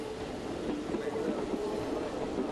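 A subway train passes beneath central Athens, a steady, loud rumbling roar with faint metallic rattling that holds evenly throughout, no voices over it.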